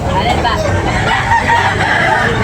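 At a bustling market where chickens are sold, a rooster crows loudly and close, its call overlapping with people talking nearby.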